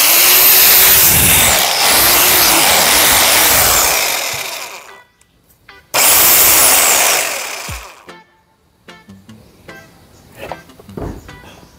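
A rotary hammer drill runs loud and close in a continuous whir, stops, then starts again for a couple of seconds before falling away to scattered handling clatter.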